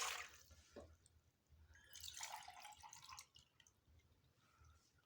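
Water poured from a jug into two drinking glasses while making Kashmiri pink tea, a faint, soft splashing trickle at close range with brief drips, no voices.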